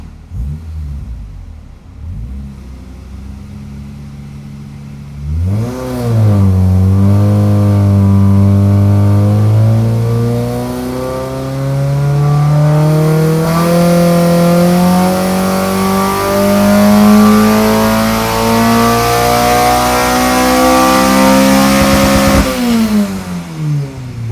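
A Mazda Miata with a swapped Honda K24 engine makes a full power pull on a dyno: after a few seconds of quiet, the engine snarls up and its pitch climbs steadily for about seventeen seconds, loud and close, before abruptly dropping off.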